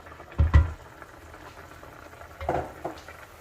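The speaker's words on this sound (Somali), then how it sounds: "biyo ayaan ku darsanaynaa kulul oo caadi ah, 3 koob biyaha waaye" Hot water poured over cooking meat for a Somali okra sauce, with a couple of soft splashing bursts and a low bubbling simmer between them, without talk.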